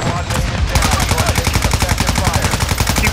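Rapid automatic gunfire from Call of Duty: Modern Warfare 2 (2022), a loud, sustained stream of evenly spaced shots running nearly the whole time after a brief start.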